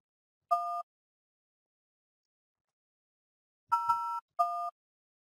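Three bright two-tone keypad beeps dialing a conference bridge number on a PBX phone system: one short tone, a long pause, then two quick tones close together, clean against silence.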